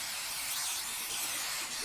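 Spray painting in the video game Love, Sam: a continuous airy hiss of an aerosol can, steady and fairly faint, running unbroken for about two seconds with no voices.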